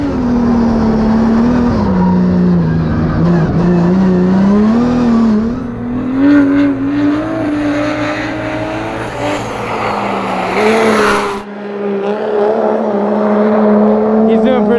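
A Formula Drift car held at about half throttle through a drift, its engine droning loud and close with shifting pitch while the tires slip and squeal, a brief dip near the end before the engine roars again.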